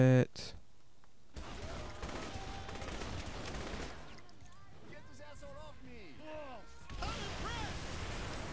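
Loud bursts of explosions and gunfire in the video game Saints Row: The Third boom and crackle, with voices talking over the chaotic action throughout.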